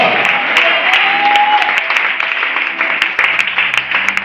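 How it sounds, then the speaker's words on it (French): Church congregation at an evening service cheering and applauding loudly, dense continuous clapping with shouts of acclaim filling the room throughout. "Est-ce que tu peux acclamer très fort Jésus?"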